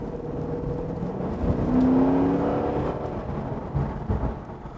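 A Holden Commodore SS V VE Series II's V8 engine revs up into a sustained rising tone, then eases off, loud and close with a throaty hum underneath.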